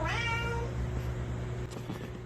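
A house cat lets out one drawn-out meow at the start, then quiet room hum follows, fairly faint and with no talking.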